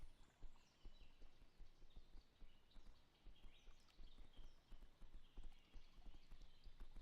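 Horse hooves clip-clop at a steady riding gait in a video game, a rhythmic, continuous patter with faint birdsong in the background.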